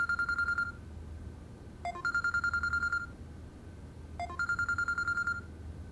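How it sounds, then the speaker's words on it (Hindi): A telephone rings in a drama scene, an electronic warbling ringtone in three evenly spaced bursts of rapid pulsing tones, clear and close with short gaps of quiet between. "फ़ोन आ रहा है।"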